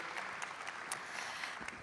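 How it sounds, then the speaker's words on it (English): An audience at a conference side event on food security claps for departing panelists, a steady, even wash of applause with scattered sharper claps throughout. "Let's give them a big round of applause, ladies and gentlemen."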